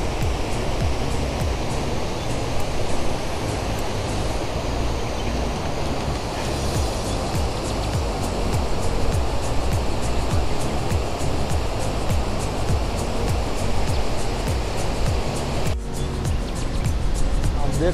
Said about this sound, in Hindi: ये आप देख रहे हो 1 फुट से ये ओवरफ्लो जा रहा है पानी।